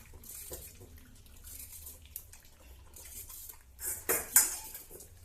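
A dog's bowl is handled, giving faint clinks and scrapes that build into a couple of sharper metallic clatters toward the end, set in a quiet indoor room.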